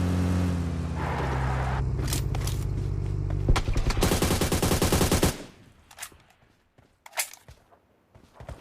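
Rifle fire in PUBG Mobile, including the Kar98, with rapid crackling bursts of gunfire up close, then a few sharp, isolated shots with quieter game sounds between them.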